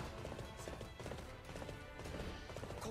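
Galloping horse hoofbeats in the video game Arslan: The Warriors of Legend, a quick continuous clip-clop rhythm that stays fairly quiet and steady throughout, with no talk.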